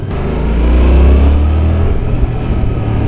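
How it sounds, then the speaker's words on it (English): A Yamaha XSR700 motorcycle's deep exhaust note rumbles up loudly, swelling as the engine revs then easing off into a throbbing idle, close by. "exhaust note is lovely"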